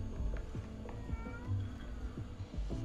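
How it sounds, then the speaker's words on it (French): A cat meows inside the video game Hello Neighbor 2, with short repeated mews rising over a busy, steady bed of game sound and music. "Il y a un chat?"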